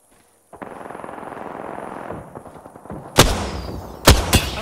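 Video game gunfire in a battle-royale match: a steady stream of rapid automatic shots, then two loud, close, booming bursts near the end, with no talk over it.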